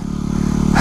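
A dual sport motorcycle churns through mud, its engine a close, steady, rising drone that swells louder in a brief burst of throttle.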